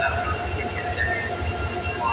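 Low rumbling train noise with a faint metallic squeal above it at a Dhaka railway station at night, steady and continuous like a train standing or moving slowly nearby.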